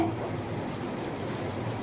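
Water poured into a pan of achari baingan masala, a steady, even rush of liquid that runs alone for the whole short stretch without any voices.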